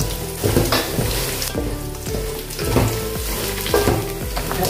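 Large slices of dried coconut roasting in a pan for masala makhana, with faint sizzling and repeated stirring scrapes in a rhythmic pattern under a loud steady backing music track.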